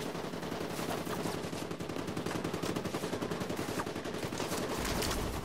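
Automatic gunfire fills a firefight in The Division 2, a dense and continuous stream of rapid shots with rattling reports, moderately loud and steady throughout.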